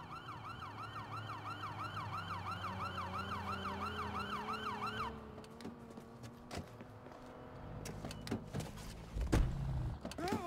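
A wailing ambulance siren in the video game Watch Dogs 2 sweeps up and down loudly for about five seconds, then cuts off, leaving engine rumble, clunks and scattered game noises.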